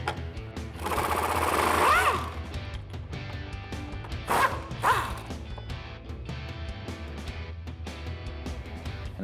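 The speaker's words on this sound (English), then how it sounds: "remove these two 18 millimeter bolts with an 18 millimeter socket" A socket wrench works 18 mm rear shock bolts loose on a 2015-2025 Ford Mustang, giving close mechanical rattling and whirring with sharper squeaks and clanks, strongest in two surges.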